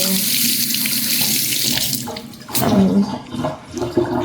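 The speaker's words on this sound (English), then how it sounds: "So the first thing you do is you give all your fruits a good wash" Tap water runs into a kitchen sink while fruit, celery and cilantro are washed under it, a loud close splashing that shifts and gurgles as the produce is handled, with no talk.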